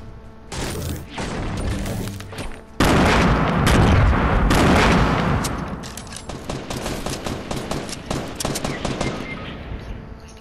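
Rapid bursts of automatic gunfire in Fortnite Battle Royale, dense close volleys followed by a trailing run of quicker, lighter shots, loud throughout.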